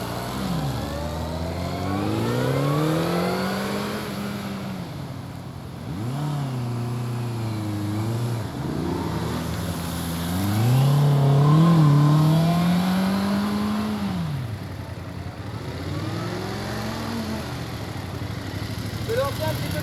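A car accelerates hard in a straight line several times during braking practice, its engine note rising in pitch with each pull, then dropping off, loud and close, with people talking over it.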